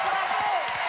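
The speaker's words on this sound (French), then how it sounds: "On les applaudit, mesdames et messieurs." A television studio audience breaks into a brief burst of applause and cheering, a dense wash of clapping filling the whole second.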